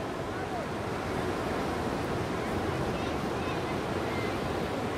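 Gentle, low surf rolls steadily onto the beach at Praia Grande, Itaipu, a flat sea with few waves, heard as a continuous broadband wash with light wind noise and no distinct breaks.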